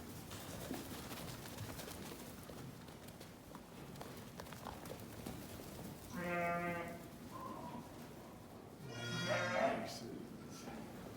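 Sheep and young lambs bleating in a dairy sheep flock during cold-weather lambing, two clear drawn-out bleats a few seconds apart over a low background hum, moderately close.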